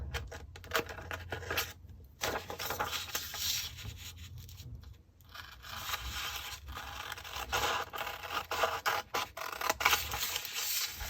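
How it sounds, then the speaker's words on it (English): Scissors cut around folded paper up close, giving a continuous rough scratching and rustling with irregular crisp snips and brief quieter gaps, all fairly faint. "we can follow that cut, and we cut around the fold"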